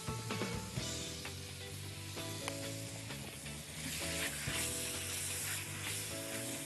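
Chicken pieces frying with spices and turmeric in a pan, a steady close sizzle with occasional stirring scrapes and clinks, no talking.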